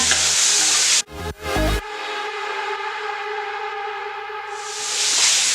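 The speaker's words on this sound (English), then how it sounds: "you can add your carrots. And then just saute that" Carrots hit a hot pan of browned garlic and ginger with a brief clatter, then a steady sizzle of sautéing settles in and swells louder toward the end.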